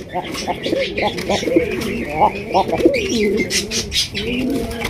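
A pair of Bombay pigeons coo close by in repeated throaty, rolling calls with short pauses between them. Human voices are faintly mixed in.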